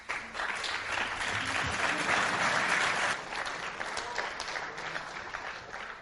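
A panel discussion audience at a conference on Europe and the global order breaks into steady, dense clapping that swells in the middle and eases toward the end, filling the room without any talk.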